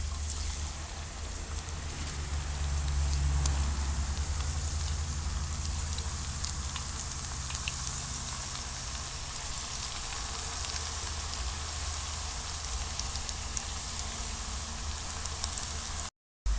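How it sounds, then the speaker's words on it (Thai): Continuous sizzling and crackling of banana slices frying in hot oil over medium heat, steady and close, with no talking. "ใช้ไฟกลางพอน้ำมันเราร้อนนะคะ แล้วก็ใส่กล้วยลงไป"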